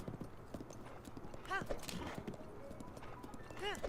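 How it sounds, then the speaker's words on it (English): Horse hooves clip-clop at a gallop in The Legend of Zelda: Breath of the Wild, a quiet rhythmic beat under steady talk, with a brief whinny-like call rising twice. "Normally for the horse gallops, I do like a 3 rhythm, kind of."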